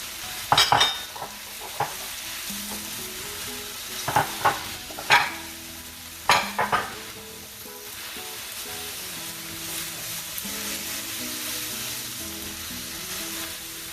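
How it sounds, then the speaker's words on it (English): Shrimp chow mein noodles stir-fry in a hot pan, a steady loud sizzle broken by several sharp scrapes and clanks of the utensil tossing the noodles. "Basically mixing in the noodles with everything"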